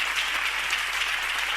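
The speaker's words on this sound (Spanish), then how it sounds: "Dale fuerte ese aplauso a Jesús." Short, dense burst of congregation applause inside a church, loud and uniform, with no voices over it.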